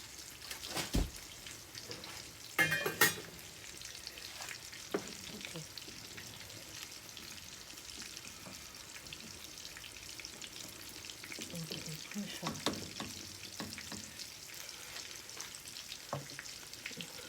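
Food sizzles steadily in a hot pan while a utensil stirs and scrapes now and then, with a few louder clatters early on.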